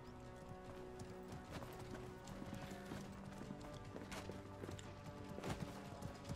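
Horse hooves clip-clop steadily in the medieval combat game Mordhau, mixed with whinnies and the clatter of a busy battle, running continuously at a fairly loud level.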